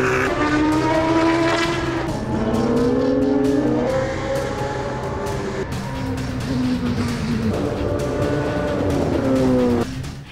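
Classic Lotus Formula One racing car engines scream loudly and continuously at Brands Hatch, their pitch rising through each gear and dropping between shifts as the cars accelerate past.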